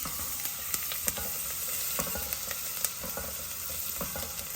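A spoon stirs sweet corn soup ingredients with chillies and chilli sauce in a hot pan, producing a steady sizzle punctuated by sharp scraping clicks at irregular intervals, close and alone without talk.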